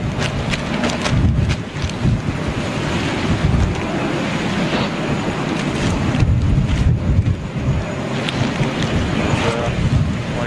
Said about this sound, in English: it is quite chilly here in New York with the wind blowing up here